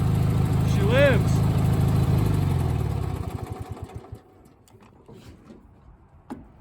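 A 1991 Craftsman II lawn tractor fitted with a new transmission, its small engine running loud and close for about three seconds, then sputtering through slowing, uneven beats until it stops, with a voice nearby.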